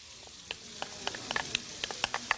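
Pork belly renders and fries in a pan, giving a low hiss dotted with sharp, irregular pops and spits of fat, close and fairly quiet.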